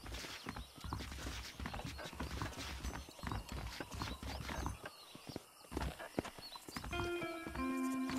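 Horses in the Red Dead Redemption video game clop along in steady, overlapping hoofbeats with an occasional whinny, quiet and mid-distance, under brief spoken lines.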